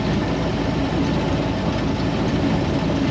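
A 1928 Ford Model A pickup's engine runs steadily, a dense, continuous low rumble at constant loudness with no talking over it.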